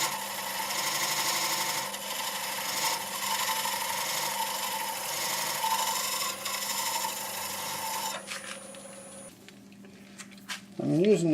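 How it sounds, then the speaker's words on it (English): A skew chisel cuts a dovetail into a spinning madrone natural-edge bowl on a lathe, giving a steady close scraping hum with a sustained tone, easing off near the end into quieter tool sounds. "I'll create a little dovetail here to match my jaws on my Nova chuck. Using my skew"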